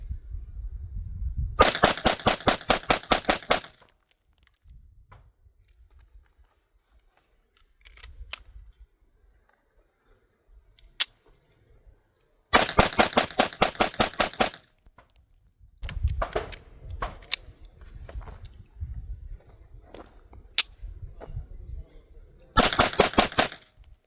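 A Smith & Wesson Performance Center BodyGuard 2.0 carry comp pistol fires in three rapid magazine dumps at an outdoor range. Each burst is a loud, fast string of sharp shots, separated by quiet stretches with faint handling clatter.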